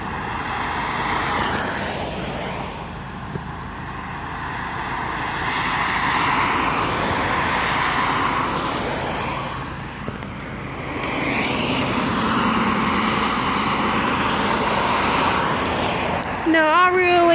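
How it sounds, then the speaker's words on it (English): The Walmart blimp's engines drone steadily overhead as it comes in to land in Gastonia, a loud propeller hum that swells and fades, with people talking nearby. "Still Walmart blimp again. It looks like it's going to probably be landing."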